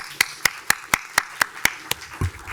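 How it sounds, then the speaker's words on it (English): At a Bloomington city council candidate forum, someone claps in a slow, steady rhythm of crisp individual claps, about four per second, fairly close and with little crowd noise behind it. "Please join me in a round of applause for all of them."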